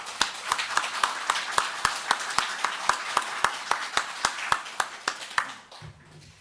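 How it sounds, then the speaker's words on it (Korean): A church congregation claps in a steady, evenly spaced rhythm, with sharp, distinct claps repeating for about five seconds before stopping. "김기성 목사님께 감사의 박수를 한번 드리도록 하겠습니다"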